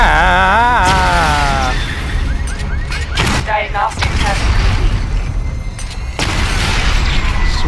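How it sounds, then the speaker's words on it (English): Loud booming missile explosions from a barrage in Batman Arkham Knight, rumbling in bursts over a dense game soundtrack while a voice speaks briefly. "Destroy targets to charge up weapon energy and activate missile barrage."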